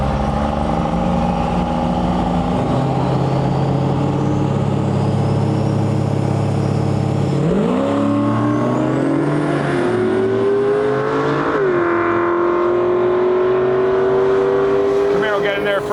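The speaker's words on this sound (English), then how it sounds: "up next here we got Anthony Elias, the 67 Camaro in the right lane, and we got a Ram Diesel far side" A 1967 Camaro and a Ram diesel launch side by side at a drag strip, loud engines roaring and revving with rising, shifting tones, one steady high drone continuing throughout.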